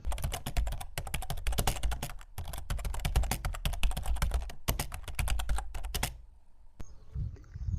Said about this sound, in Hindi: पता है कैसे लिखना है, बस ऐसे ही हम लोग टाइप करेंगे।